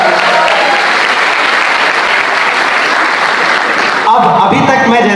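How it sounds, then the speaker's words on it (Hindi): Loud, dense applause from a college audience at a Hindi poetry recital (kavi sammelan) at NIT Jalandhar, sustained clapping close and full, with a brief shift near the end as the crowd noise changes. "एक बार अपने लिए जोरदार तालियां आप लोग बजाइए"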